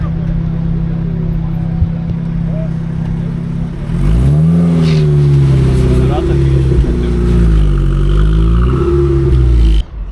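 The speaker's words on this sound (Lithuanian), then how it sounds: "Mano nauja mašina." A car engine idles and then revs up hard, its pitch rising and falling in repeated surges. It sounds close and loud, with people talking over it.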